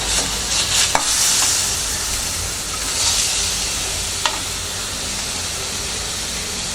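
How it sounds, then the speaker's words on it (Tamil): Carrot rice stirred in a pan over a low flame, a steady soft sizzle and hiss with a few light scraping clicks of the spoon, continuous and fairly close, no voices. "சிம்மில் வச்சுக்கோங்க"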